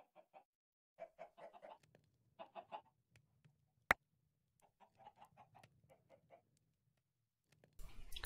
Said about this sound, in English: So the chicken started cross-breeding yet?